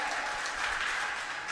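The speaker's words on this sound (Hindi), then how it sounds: "एक बार अपने लिए ज़ोरदार ताली बजा दीजिएगा" Audience applause at a Hindi poetry recital: a short, steady wash of clapping from a crowd, continuous and moderately loud with no voices over it.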